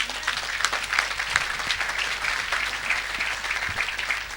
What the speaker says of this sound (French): Est-ce que tu peux acclamer doucement?